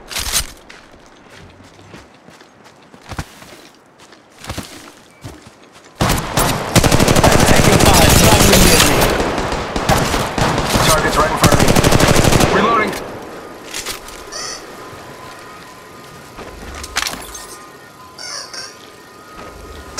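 Rapid automatic gunfire from a battle royale shooter, Apex Legends Mobile, erupts after a few scattered single shots into a loud, sustained volley of several seconds, then trails off into quieter in-game sounds and sporadic pops.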